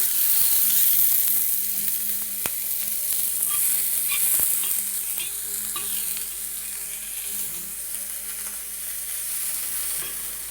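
Onions frying in a pan for a jowar roti and palya recipe hiss with a steady, close sizzle that eases slightly over time, broken by a couple of sharp scraping stirs.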